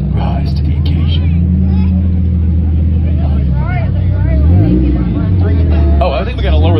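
A low sports car idles and creeps forward beneath a limbo bar at a California car meet, its steady engine drone running throughout, with people talking over it.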